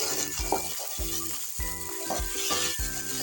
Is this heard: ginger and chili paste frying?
yes